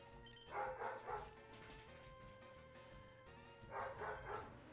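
Harley the dog in Pokémon LeafGreen barks in two quick bursts of three short, clipped yaps, separated by a pause, over quiet game music.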